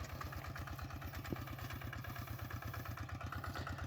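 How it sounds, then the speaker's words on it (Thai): A rice paddy tractor's engine idles at the start of the rice-farming season, a steady low chugging rhythm with faint clatter, continuous and fairly distant. "มาถ่าย รถไถนา ถึงฤดูการทำนา แล้วครับ"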